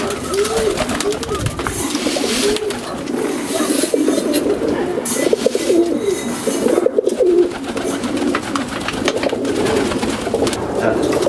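Many domestic pigeons coo in soft overlapping rolls close by, a continuous burbling chorus with scattered fluttering and background noise.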